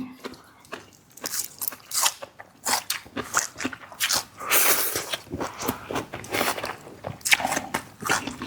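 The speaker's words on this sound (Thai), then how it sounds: "แคบหมูอร่อย" Crunchy pork crackling bitten and chewed with fresh herbs, loud close crackly crunches repeating in bursts over several seconds, with no talking.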